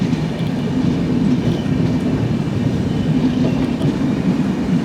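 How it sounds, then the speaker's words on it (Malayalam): A loaded BOXN freight rake rolls past a moving Duronto Express on an Indian railway line, giving a steady, dense rumble of wheels and wagons with faint rhythmic clatter, close and continuous throughout. "പുറകിലൊരു ലോഡഡ് ബോക്സൺ റേക്കാണ്."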